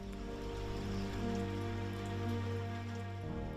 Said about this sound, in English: The first day, the rain becomes heavier.